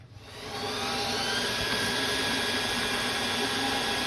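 A KTEC colour label printer runs labels at high speed, about eight inches a second, giving a steady, loud mechanical whir with a constant high tone that starts up in the first half second and holds evenly throughout, with no talk.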